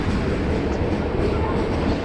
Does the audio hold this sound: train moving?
yes